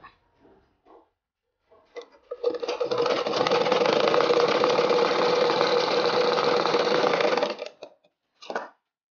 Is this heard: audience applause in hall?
no